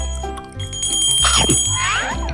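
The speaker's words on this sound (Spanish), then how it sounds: "De repente, sonó el timbre." Cartoon doorbell chiming with bright, ringing bell tones over background music, a short melodic ring that rises and decays within a couple of seconds.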